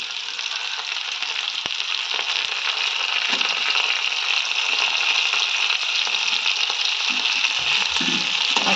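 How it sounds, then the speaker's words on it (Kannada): Long strips of brinjal fry steadily in hot oil in a pan, a loud continuous sizzle close by with a few faint clinks of stirring near the end. "ನೋಡಿ, ಇವಾಗ ಇದು ಫ್ರೈ ಆಗ್ತಾಯಿದೆ."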